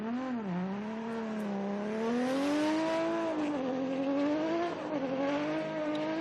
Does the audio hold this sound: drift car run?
yes